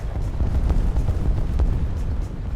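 A Sturmtiger's 380 mm gun fires in War Thunder, a deep sustained rumbling roar with heavy low-end boom that fills the whole moment, loud and close, with no voices over it.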